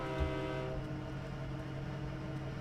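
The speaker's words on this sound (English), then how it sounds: "Gotta ring the horn a little bit there." Norfolk Southern GP60 locomotive horn in Train Simulator 2019, a sustained multi-tone blast sounding steadily and loud over engine rumble for the whole stretch.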